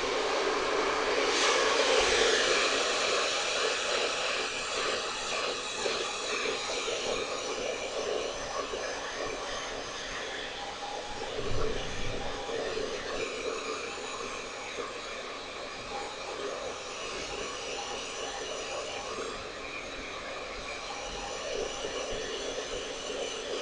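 A hair dryer blow drying curly hair gives a steady, loud, broadband whoosh that runs unbroken for the whole stretch, with small swells as it moves closer and farther away.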